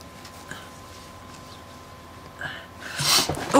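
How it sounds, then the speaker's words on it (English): A person blowing their nose, a soft snorting burst near the end after quiet room tone, close to the microphone and unaccompanied by speech. "I'm going to have to blow my nose"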